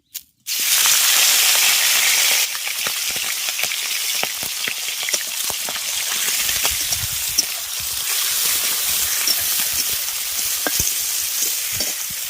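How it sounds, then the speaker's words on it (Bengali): Pond snails, shelled and cleaned, hit hot mustard oil in a pan with a loud burst of sizzling that settles into a steady crackling fry, broken by frequent clicks and scrapes of stirring. "এবার তেলের মধ্যে ছাড়িয়ে পরিষ্কার করে রাখা গুগলিগুলো দিয়ে দেবো"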